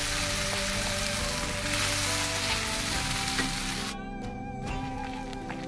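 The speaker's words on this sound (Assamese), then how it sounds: "অকণমান মই ভাজি ল'ম।" Pointed gourd cooking in oil gives off a loud, continuous close-up sizzle in a pan, with a steady tonal hum running underneath and a brief dip in the hiss near the end.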